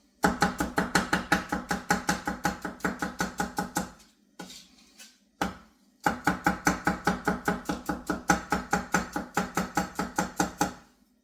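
Onions are chopped with a knife on a cutting board in two long runs of rapid, evenly spaced, sharp chops, close and loud, separated by a short pause with a few softer knocks.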